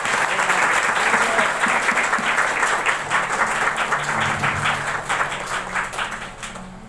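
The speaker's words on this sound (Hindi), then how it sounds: "ताली बजाइए।" Loud, dense clapping from guests at a Christian wedding right after the ring exchange vows, sustained and close, then thinning and fading toward the end with a low hum underneath.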